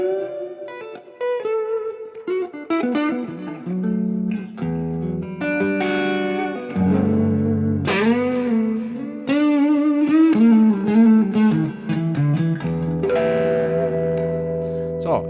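An electric guitar plays through a Fender Junior amp with a 440 ms delay and a medium plate reverb. Sustained notes and chords ring out loud and close with long echoing tails.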